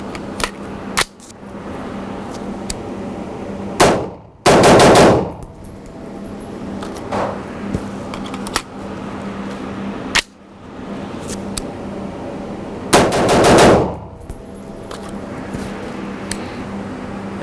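Sig Sauer MCX rifle firing Federal Green Tip XM855 ammunition, with two loud, sharp shots several seconds apart, each followed by a brief ringing tail over steady background noise.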